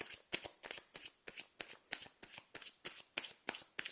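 Tarot cards are shuffled steadily by hand, a rapid, even riffle of crisp papery slaps repeating about four times per second, close and quiet with no other sounds.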